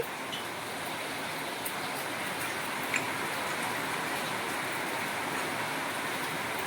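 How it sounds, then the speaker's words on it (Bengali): Steady rain hissing outside, a constant broadband wash at moderate level with an occasional faint tick, no voices. "প্রচন্ড বৃষ্টির আওয়াজ, বাইরে দারুণ বৃষ্টি হচ্ছে।"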